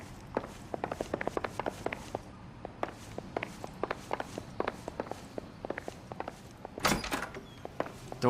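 In L.A. Noire, set in a flophouse, quick footsteps patter at close range, then a door opens with a short burst of creak and clatter near the end. There is no talking.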